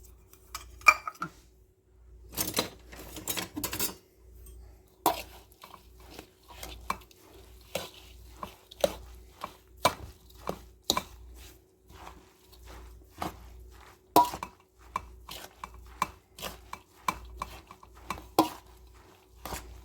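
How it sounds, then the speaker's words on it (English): Chopped cucumbers are stirred with half a cup of pickling salt in a bowl for relish. A spoon gives a long run of irregular, close scraping and clinking strokes with quiet pauses between, and no one speaks. "We'll put this all in here and then we're going to stir it up."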